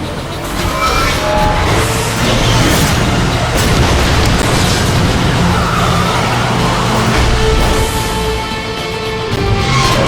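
A transformed robot vehicle roars off in the video game Transformers: Fall of Cybertron, with loud continuous engine drive, rumbling booms and skidding throughout.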